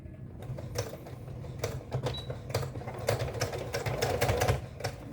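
A sewing machine stitches a jeans zipper in quick rhythmic bursts, a steady mechanical whir with clicking needle strokes, close by and fairly quiet.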